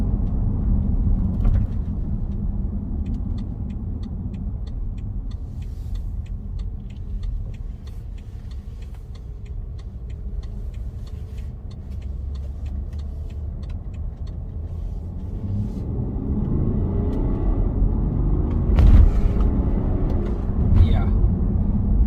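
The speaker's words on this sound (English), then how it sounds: "driving this X5 really puts a smile on my face" A BMW X5 M Sport 30D diesel SUV drives on the road, its low steady engine and tyre rumble continuous from inside the cabin, swelling louder near the end, while a person talks over it.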